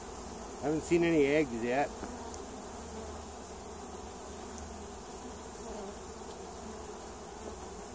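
Honey bees buzz at a swarm hive as a steady, continuous drone in the background, while a person speaks briefly near the start.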